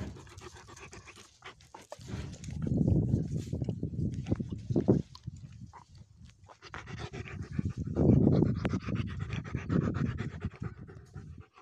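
Close, heavy dog panting in quick rhythmic breaths that swell louder twice, near cows, continuing throughout without any speech.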